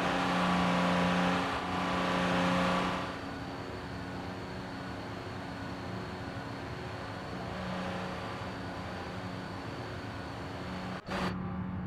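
A car engine in a crash-test video game hums and revs steadily for several seconds with a sustained tonal drone, easing slightly partway through before a brief knock near the end.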